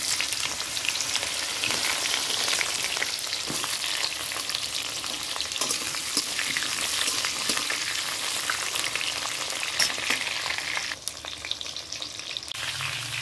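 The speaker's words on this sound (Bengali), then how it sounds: "পটলটা একটু ভেজে নেব" Pointed gourd (potol) frying in hot oil with cumin gives a steady, close, dense sizzle that crackles continuously throughout, with no talking, easing slightly near the end.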